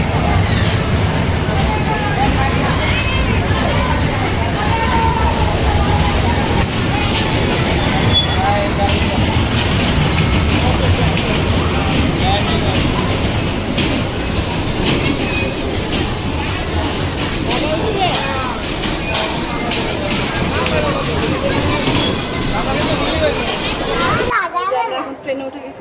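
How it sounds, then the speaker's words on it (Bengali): Riding a children's park train during an Eid outing: a constant loud rumble and clatter of the moving train, mixed with crowd babble and children's voices throughout, ending abruptly. "ট্রেনে উঠে গেছি।"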